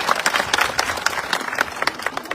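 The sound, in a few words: audience applause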